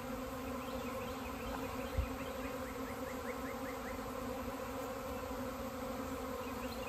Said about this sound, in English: But you can probably hear them on the video. It's just it's a tornado of bees around me.